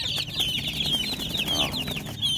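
A brood of Darag native chicken chicks peeps noisily in a backyard pen, a rapid overlapping stream of shrill chirps up close, with no talking.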